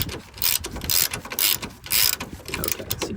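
A ratchet tightening the rear shock bolt on a 2015-2022 Honda Civic, several bursts of rapid clicking close up, separated by short pauses between pulls.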